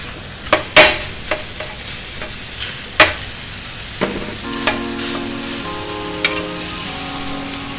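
Beef hits a hot pan of onions for a cheesesteak, setting off sharp clatters and scrapes of stirring over a low, spreading sizzle, with a few ringing clanks along the way.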